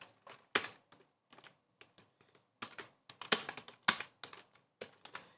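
Java code being typed on a computer keyboard: irregular bursts of crisp key clicks, some single taps and some quick runs, close and fairly quiet with pauses between.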